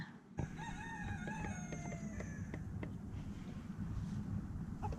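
Silkie chickens and a cockerel in a backyard flock, a sharp call with warbling tones near the start and scattered clucks afterward, faint and outdoorsy over a steady windy rumble.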